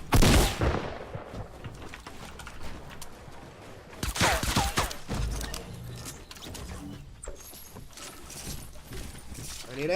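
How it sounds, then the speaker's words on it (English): Gunfire in a first-person shooter during a pistol-only round, with several sharp shots scattered across the clip, loudest near the start and around the middle, over busy game background noise. "Where these shots are coming from"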